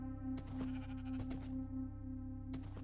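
Sheep in Minecraft bleat in three short, wavering calls spaced across a couple of seconds, fairly quiet over a steady low musical drone.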